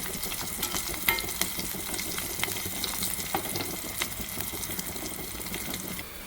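Crushed garlic cloves frying in a pan, a steady dense sizzle with occasional crackling pops and faint scraping, close and continuous with no talking.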